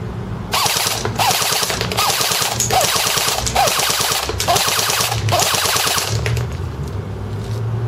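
An A&K ACR Masada airsoft rifle fires on full auto in several rapid bursts of dense, crackling shots, loud and close, separated by brief pauses.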